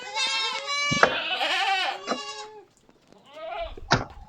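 A pregnant goat bleats several times up close, wavering cries in quick succession with a short pause before a final bleat.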